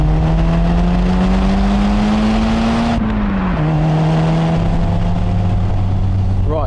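Turbocharged Toyota Celica GT4 or Mitsubishi engine accelerating hard from inside the car, a loud rising drone that breaks at a gear change and settles into a steady pull, with a voice briefly under it.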